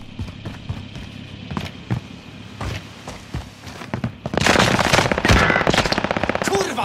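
Machine gun fire in Call of Duty Warzone at Fortune's Keep: scattered single shots and thuds give way to a loud, sustained burst of rapid automatic fire near the end.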